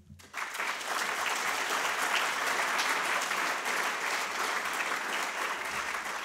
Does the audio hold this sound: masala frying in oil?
no